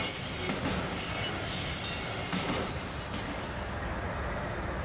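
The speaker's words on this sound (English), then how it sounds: "BNSF southbound, Kansas City to Houston automobile train, taking me siding at Joshua," A long BNSF southbound automobile freight train rolls past steadily near Joshua, Texas, rumbling with metallic wheel squeal and faint clacking, continuous and fairly close throughout.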